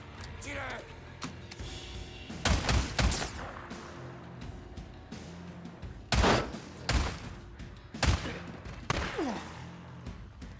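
Gunfire in the video game Days Gone: several loud bursts of shots and impacts at irregular intervals, some in quick clusters, over a low game ambience, with no talking.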